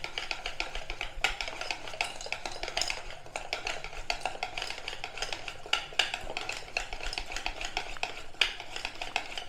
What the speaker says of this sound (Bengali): ভালো করে এবারে মেশাবো।